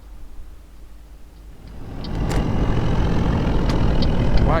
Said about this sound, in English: This truck is so slow.